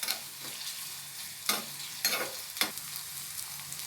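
Garlic and shallots fry in a kadai for tempering a ridge gourd dal, giving a soft, steady sizzle. A few sharp scraping stirs come through at close range.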